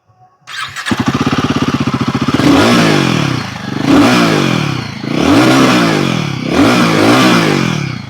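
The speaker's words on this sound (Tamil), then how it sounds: "ராயல் என்ஃபீல்டு கரீலா 450யோட எக்ஸாஸ்ட் நோட் எப்படி இருக்கு அப்படின்னு சொல்லிட்டு இப்போ செக் பண்ணிடலாம்" A Royal Enfield Guerrilla 450 roadster motorcycle starts up, then its exhaust note rises and falls in four repeated throttle revs, loud and close with no talk.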